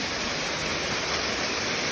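Clear, cold water flowing out of a cave makes a steady, even rush that runs unbroken and alone throughout, without strong surges.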